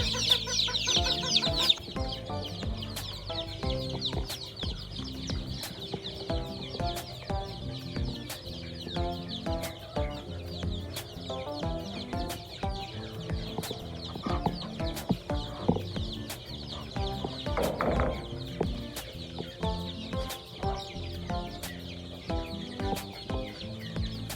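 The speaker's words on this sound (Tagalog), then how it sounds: "So araw-araw tayo nagko-collect ng mga sisiw." A brood of about ninety to a hundred young chicks chirps and peeps continuously in a dense, overlapping chorus, with a faint rhythmic ticking running underneath throughout, no voices.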